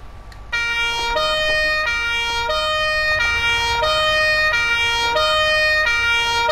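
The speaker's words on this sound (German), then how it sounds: "wir fahren jetzt auch mit Sirene, also müsst ihr vielleicht ein bisschen leiser machen." Fire engine siren in the Farming Simulator 22 video game, a loud, steady two-tone wail that alternates between high and low pitches about every half second and runs for several seconds with no talking.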